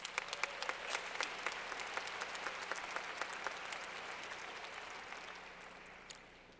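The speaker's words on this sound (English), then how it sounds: "Let's give them a round of applause." A large audience applauds at a university commencement ceremony, a broad, even rush of clapping with distinct individual claps near the start, gradually fading in loudness toward the end.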